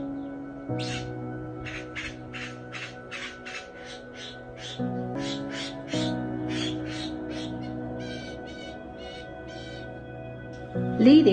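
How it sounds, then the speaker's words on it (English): Bowerbirds call around their bower in a garden, giving bursts of harsh, rapidly repeated rasping notes in two long runs, moderately close, over a soft steady tonal background. "we can hear the bowerbirds playing around their bower"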